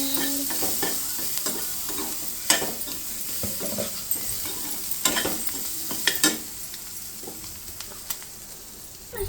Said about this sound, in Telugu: కారం వేసుకోవాలి. ఇప్పుడు మొత్తం కలపాలి.